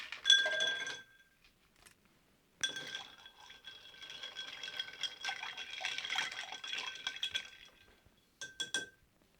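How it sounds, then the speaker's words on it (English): Ice stirred in a glass for a White Russian cocktail clinks and rattles, a brief burst of bright chinks, a pause, then a long run of busy clinking and a few final taps, close and clear. "Let's add some ice and give that a stir."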